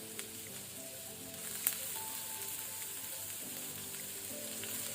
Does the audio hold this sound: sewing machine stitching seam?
no